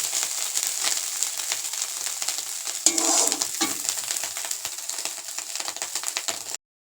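Fish frying in a pan: a steady, close hiss and crackle of oil that runs unbroken for several seconds, with a brief louder flare of sizzling partway through.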